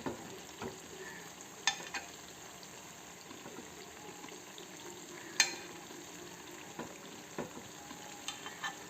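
Unniyappam sweet fritters frying in hot oil in an appam pan while being gently stirred and turned, a steady soft sizzle broken by occasional sharp clicks and taps of the utensil.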